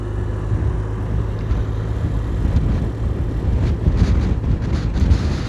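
Strong wind buffets a microphone outdoors at a race, a steady loud low rumble with gusty surges throughout and no speech.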